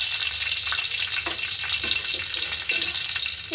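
Mustard seeds pop and crackle in hot oil for tempering, a close, steady sizzle broken by scattered sharp little pops.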